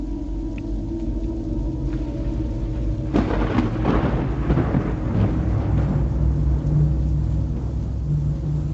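A thunderstorm recording of rain and low rumbling, with a loud crack of thunder about a third of the way in that rolls into a long, heavy rumble, all alone with no speech.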